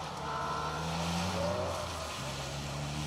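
Mazda MX-5 rally cars at the Donington rally, heard as a continuous, fairly distant engine drone with a slight rise and fall in pitch.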